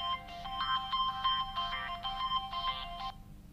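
A telephone rings in a repeated electronic ringtone pattern, steady bursts of bright trilling tones running continuously for a few seconds with no talk over it.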